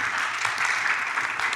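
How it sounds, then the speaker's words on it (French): Brief, dense applause from an audience at a Mad Max fan event, a steady burst of clapping thanking two guest speakers. "On peut les applaudir encore."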